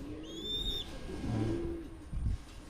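Birds call in a breeders' aviary, a few short chirps and low coo-like calls, fairly faint against a soft background.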